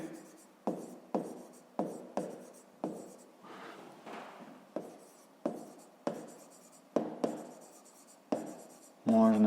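A pen writes on paper in short repeated strokes, about a dozen quick scratchy bursts spaced in a regular rhythm, close and fairly quiet, ending with a brief louder rustle.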